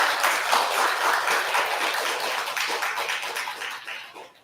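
Congregation clapping at a Buddhist temple's year-end Sunday family Dharma service, a dense, fairly loud burst of hand applause from a crowded hall that gradually thins and fades out.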